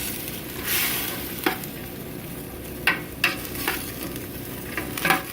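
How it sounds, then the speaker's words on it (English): Tomato paste is stirred into venison chili in a pot, a soft continuous scraping and bubbling sizzle with several sharper spoon knocks against the pan, quiet and close, with no talking. "We're just going to mix this all up."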